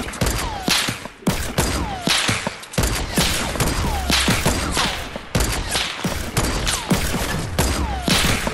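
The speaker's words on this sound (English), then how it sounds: "Shooting going on." Loud, near-continuous bursts of gunfire from a sniper-mode shooter game: sharp cracks and rattling volleys that overlap in rapid clusters, with short gaps, and no voices over them.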